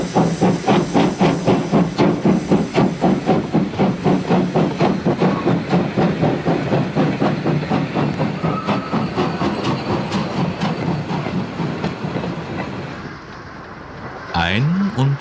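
A DB class 001 steam locomotive fitted with a new-build boiler starts away at Kulmbach station, its loud, rhythmic exhaust beats dominating and slowing slightly before a sharp hiss near the end.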